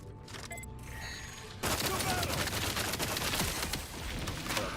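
Gunfire from a weapon in a sci-fi space exploration video game, with a dense burst of rapid shots that starts abruptly partway through after quieter electronic beeps and tones, loud and continuous to the end.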